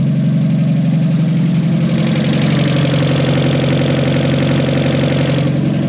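Mazda Miata engine idling with a rough top-end noise, a steady close mechanical clatter and ticking over a low drone, continuous and fairly loud.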